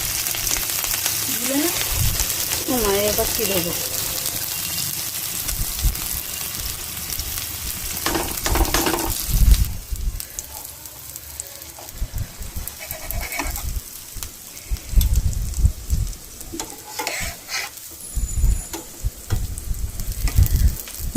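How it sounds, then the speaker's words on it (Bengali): Chili and onion sizzling in hot oil in a wok (kadai), a steady broadband frying hiss running throughout with bursts and clatter, a voice speaking briefly over it. "লঙ্কা পেঁয়াজটা দিয়ে দিচ্ছি।"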